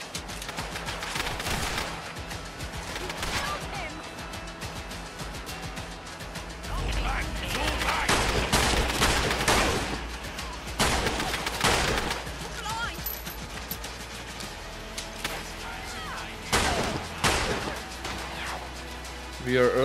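Gunfire rattles in the video game Fallout London, with loud bursts and rapid volleys recurring over a constant layer of battle noise and game sounds.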